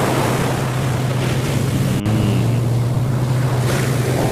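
Dozens of U.S. military amphibious vehicles move through ocean water off the Philippines, a steady loud engine drone over rushing waves and wind noise throughout, with no talk.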